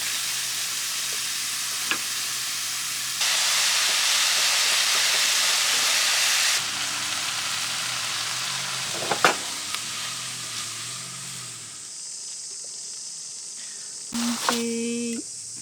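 Yaki udon sizzles and fries steadily in a pan at a snowy campsite, a loud dense hiss that swells midway then eases, with brief stirring scrapes and a short clatter near the end.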